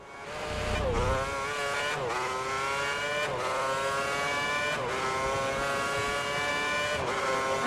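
A Formula 1 car of the 2010 season screams around Istanbul Park in Turkey in a racing game, its high engine whine rising steadily through the gears with quick drops at each upshift, loud and continuous.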